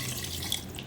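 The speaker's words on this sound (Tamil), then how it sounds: "இப்போ 3 கிளாஸ் தண்ணி ஊற்றிக்கலாம்" Water runs steadily, like a stream being poured into a pot for mutton dum biryani, a soft continuous splashing close by with no talking.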